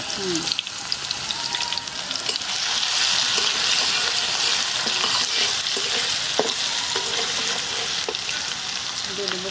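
Chopped garlic fries in a hot pan with a steady, bright sizzle and occasional stirring scrapes, close and continuous throughout.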